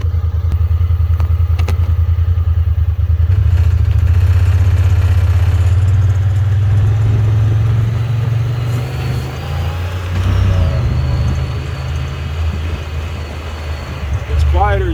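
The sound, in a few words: Honda Talon UTV engine with custom exhaust mod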